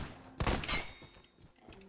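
A single sharp gunshot from a scoped SCAR rifle in Phantom Forces, a loud headshot crack with a short ringing tail, followed by a faint shot, no speech.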